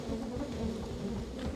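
A steady insect-like buzzing of bees in the video game Barnyard drones continuously, fairly close and even in level, with a slight swell near the end.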